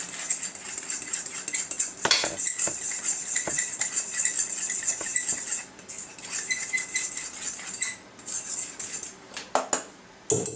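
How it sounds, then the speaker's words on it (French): A small spoon clinks and scrapes continuously against a bowl, mixing icing sugar and cornstarch with quick, close, rhythmic strokes and brief pauses. "Vous prenez une petite cuillère ou une fourchette et vous mélangez bien les deux"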